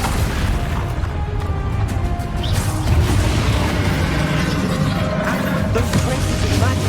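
Booming magical spell blasts in the wizarding game Hogwarts Legacy during a final battle against a dragon, heavy rumbling bursts and crashes layered over a constant loud low roar with scattered sharper pops.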